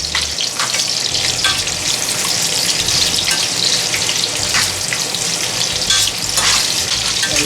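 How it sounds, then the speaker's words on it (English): Half a large onion fries in a pan for a lamb pasta dish. A loud, steady sizzle runs throughout, broken by scraping stirring strokes, with no speech. "I keep stirring it. Fry it for a little while."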